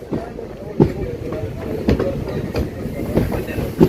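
A passenger train on the Kanhangad to Mangaluru route rolls into a platform with steady rumbling and regular clickety-clack wheel beats, close and loud, while someone talks over the noise.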